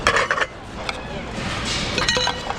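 Ceramic plates clink and clatter as they are lifted and stacked, a few sharp knocks near at hand with faint background voices.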